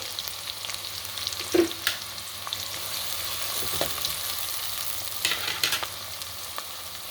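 Ingredients for a mango and raw fish curry fry in a pan with a steady low sizzle, broken by a few brief stirring scrapes and clicks; no one speaks.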